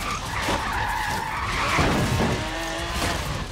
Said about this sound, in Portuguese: Agora freia aí.